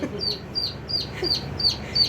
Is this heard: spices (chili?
no